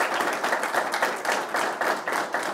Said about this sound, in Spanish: aplauso para nuestro invitado